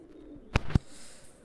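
A male Pakistani high flyer pigeon gives a brief, close two-note coo, soft and low, with quiet background between the notes.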